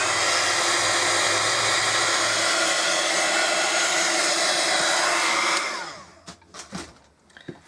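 A hair dryer blows steadily on a glued canvas picture for a craft project, a loud close whir for several seconds before switching off, followed by a few faint handling knocks.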